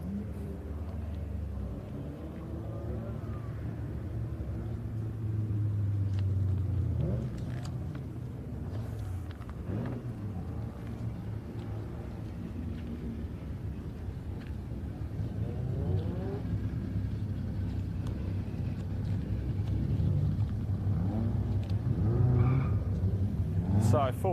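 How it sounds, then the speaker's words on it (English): MG race cars competing in the MG Cup, a circuit racing series, produce a continuous loud engine roar with rising revs and passing cars throughout, mixed with crowd and commentary-like noise. "Peter Birchall always goes very, very well in that monster MG"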